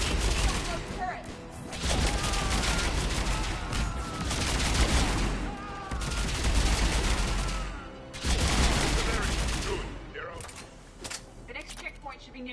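Sustained turret gunfire from a Mass Effect 3 firefight, dense rapid bursts running nearly continuously with brief pauses, loud and close, mixed with explosions and game voices talking.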